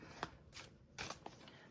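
A deck of cards is shuffled by hand, giving several quick crisp riffling bursts close by, with no talking.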